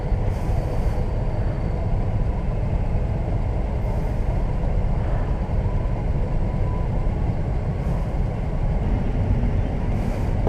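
Road traffic and engine noise from a Honda motorcycle ride through Commonwealth produce a steady, loud, broadband rumble with wind, and no talking is heard.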